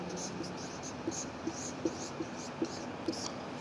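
A pen writes on paper in a Hindi fee-structure lesson, with faint scratchy strokes and a regular series of soft taps under a quiet background hiss.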